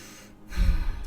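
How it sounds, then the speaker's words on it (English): A single person draws one soft, close breath in, a short airy inhale lasting about half a second after a brief hush. "Take a breath with me."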